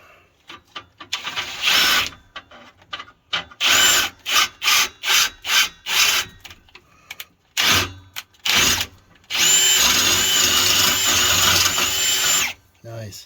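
A power drill whirs in a series of short bursts, then runs in one long sustained stretch, close and loud, with brief gaps between pulses.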